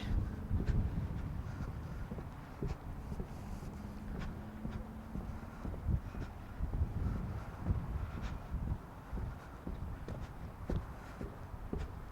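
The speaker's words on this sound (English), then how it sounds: "It is super windy." Wind buffets the microphone at a beach on Vancouver Island with low rumbling gusts throughout, with some faint scuffs and knocks underneath.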